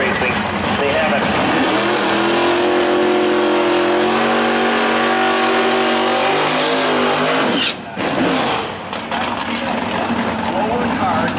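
Oldsmobile and Pontiac cars sit at the line of a bracket drag race, then launch with loud, rising engine roar that holds for several seconds before cutting off, heard up close over constant crowd and track noise.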